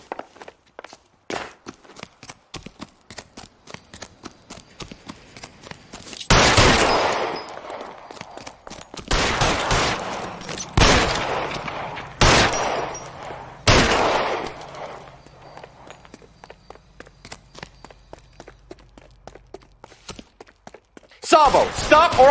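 Gunfire in the crime video game L.A. Noire, loud bursts of shots in a few clusters, with footsteps and clicks in between and occasional voices.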